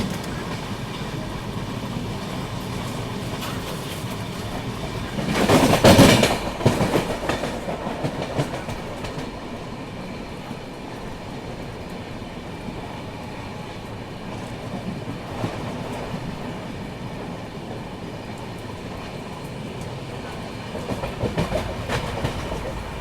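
A Pune–Kolkata Humsafar Express runs on rails, steady clickety-clack and rumble heard from inside, with a louder burst of passing noise around a quarter of the way in.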